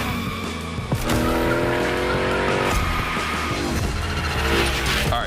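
A car slides sideways in The Crew Motorfest racing game, its tires squealing loudly over a steady engine roar, continuous for several seconds.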